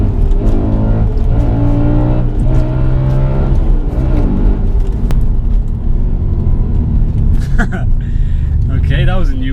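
An Audi RS4 B7 engine revving hard through corners from inside the car, a loud sustained roar rising and falling in pitch with gear changes, and a voice talking over it near the end.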